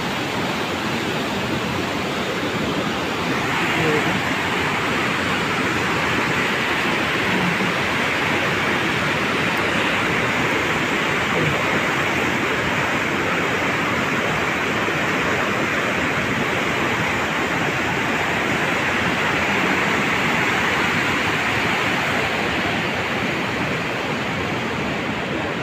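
A flooded river rushing past a road closed by flood damage, a steady, loud broadband roar of flowing water that carries on without a break from start to end.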